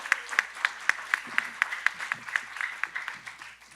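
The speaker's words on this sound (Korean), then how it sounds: "예, 박수로 맞이해 주시기 바랍니다." Audience clapping at a parliamentary forum as a presenter is welcomed, a short burst of sharp, evenly spaced claps from a modest crowd, fairly close and without speech over it.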